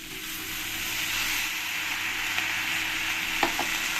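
A pan sizzles with a steady hiss while taro leaves are stirred into browned frying onions, a few soft scrapes and taps of a utensil near the end.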